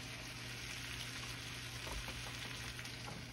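Buttered bread frying in a skillet, with a faint, steady sizzle and hiss running quietly and evenly throughout, with no talk over it.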